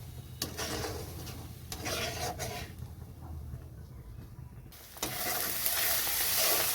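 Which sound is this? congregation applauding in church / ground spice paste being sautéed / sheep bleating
ground spice paste being sautéed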